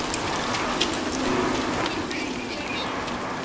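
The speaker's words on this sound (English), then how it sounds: "It's a toxic storm on a lush planet." Steady rain from a toxic storm on a lush planet in No Man's Sky, a constant dense hiss filling the scene with faint game tones underneath, no speech.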